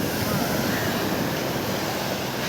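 Strong sea waves surge at Pondicherry beach, a steady loud roar of surf close by, heavily mixed with wind noise across the microphone.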